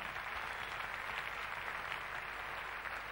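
A television studio audience applauds an orchestra on a pop talent show, with a continuous, even clapping that stays faint and distant throughout.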